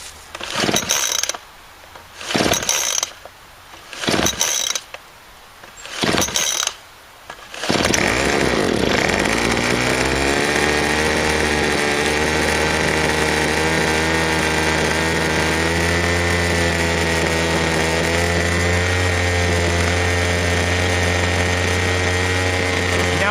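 Small gas engine, likely on a leaf blower, pull-started with four or five rhythmic rope pulls that sputter, then catching and settling into a steady, loud, droning idle close by.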